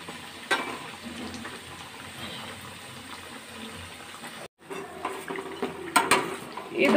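Dal vadas for Udupi-style chattambade deep-frying in oil, a steady bubbling sizzle with utensil clinks and scrapes, a brief gap midway, then louder clattering near the end.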